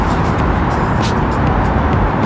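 Official limousines drive past on a Moscow street, a loud continuous roar of car engines and tyres close by, with no break for the whole short stretch.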